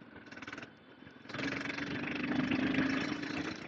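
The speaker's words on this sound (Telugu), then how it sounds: "బండి సౌండ్ అయితే, ఎగ్జాస్ట్ నోట్ అయితే సూపర్ ఉంది అసలు" A Royal Enfield Himalayan 450 motorcycle engine, a quiet idle that swells into a steady, louder exhaust drone with a low hum.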